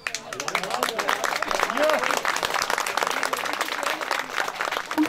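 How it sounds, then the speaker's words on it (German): Spectators at an outdoor scything competition applaud a mower with a steady burst of clapping, while a narrator talks over it. "Jeder Mäher erhielt nach erfolgreicher Teilnahme einen Applaus vom Publikum."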